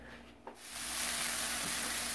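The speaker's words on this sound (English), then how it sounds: "frying up our veggies before we add the rice" Vegetables frying in a pan for fried rice, a soft clink and then a broad, steady sizzle rising and holding close by, with no talking.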